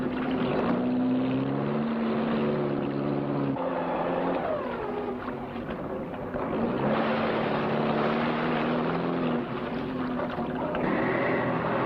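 A boat engine drones steadily, a continuous motor hum with rising and falling pitch tones over about twelve seconds, moderately loud and alone.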